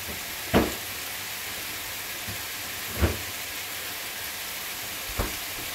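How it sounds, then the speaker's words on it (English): Bacon frying in a pan gives a steady soft sizzle and crackle, broken by three brief louder clatters or spatters spaced a few seconds apart, with no talking. "Okay, I'm gonna put the bacon back in here."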